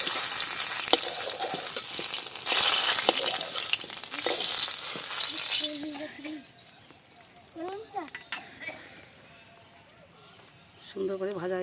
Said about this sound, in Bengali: ক্যাপসিকামটা আমি ভেজে নিচ্ছি।